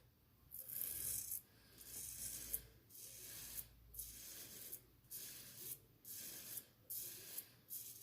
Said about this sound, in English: time to shave for the first pass with the grain